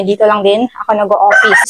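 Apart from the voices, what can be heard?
chicken crowing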